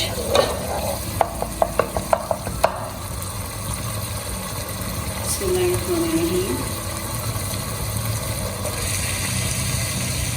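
Dhaba-style dal mash lentils are added to frying masala in a pan, opening with a quick run of sharp spoon taps against the pot, then a loud, steady sizzle and stirring.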